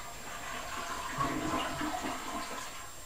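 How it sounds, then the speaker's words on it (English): A household toilet flushes with a steady rushing swirl of water that swells in the middle and keeps draining to the end, close by with no talk. "I'm gonna flush the toilet."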